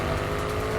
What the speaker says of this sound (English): In certain modes, the Urus's exhaust system is possibly the angriest I've ever experienced